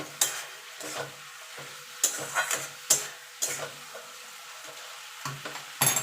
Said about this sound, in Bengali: এবার জোরে দিয়ে আমি নেড়ে নেবো ছোলা শাক